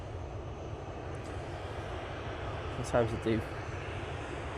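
Ryanair airliner jet engines at Manchester Airport give a steady, loud, broad roar throughout, with someone speaking briefly over it.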